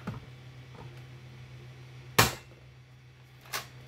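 A Nerf Hammershot blaster fires half darts in two sharp, quick snaps spaced about a second apart, over a faint steady hum, with no talking.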